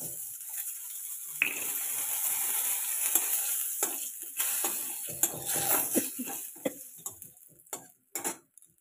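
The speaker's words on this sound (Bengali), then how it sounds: "ফোড়নে দেবো এই যে তেজপাতা, শুকনো লঙ্কা ফোড়নে দিয়ে দিলাম, আর এই যে গোটা গরম মশলা" Bay leaves, dried chillies and whole garam masala sizzle in hot oil, a steady close hiss broken by sharp crackles and small clinks. The frying noise thins and fades toward the end.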